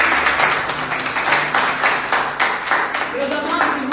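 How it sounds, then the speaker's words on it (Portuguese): Steady applause and clapping from a church congregation, sustained for a few seconds, with a faint melodic tone rising near the end. "Aplauda Jesus mais uma vez, meus irmãos."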